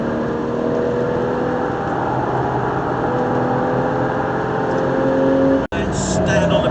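A car lapping the Silverstone circuit, its engine droning steadily and loud throughout with a rising pitch as it accelerates, a brief cutout near the end before the engine note returns under a short burst of higher noise.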